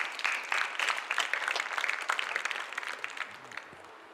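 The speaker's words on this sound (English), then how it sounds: "get a round of applause for the man" At a T20 cricket tournament opening ceremony, an audience gives the coach a round of applause, individual claps distinct and crisp, loud at first then thinning and fading toward the end.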